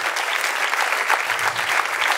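Studio audience applauds the winner of the first game on a German comedy quiz show, steady dense clapping throughout, loud and close, with no break.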